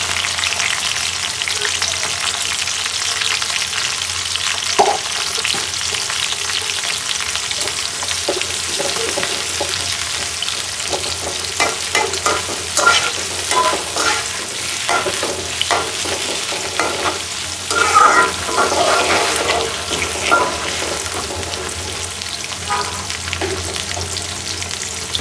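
Chopped onion sizzling in hot oil with cardamom, cinnamon, cloves, bay leaf and black pepper, a constant close crackle with occasional stirring scrapes, fairly loud and without speech.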